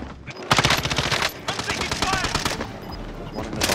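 Rapid automatic gunfire bursts in a video game, loud repeated rattling volleys with short pauses between them, while players talk over the shooting.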